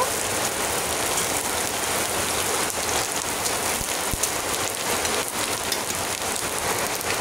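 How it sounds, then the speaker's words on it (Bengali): Dried red chillies and five-spice seeds sizzling in hot oil for a tamarind hilsa curry, a dense steady hiss and crackle throughout, fairly close and without talk. "তেল গরম হয়ে গেছে, ফোড়ন দিয়ে দিব।"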